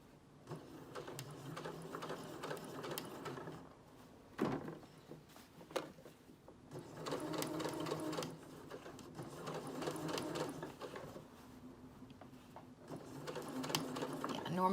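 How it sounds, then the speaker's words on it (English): A sewing machine stitches binding onto a gown in bursts of rapid mechanical whirring, stopping and restarting, with quiet talking in between. "Normally when I sew binding on"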